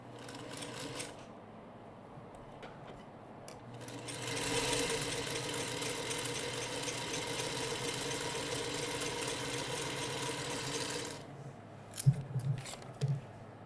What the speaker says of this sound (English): I'm going to come in 1/4 of an inch, if you can see that, and I'm going to sew all the way down.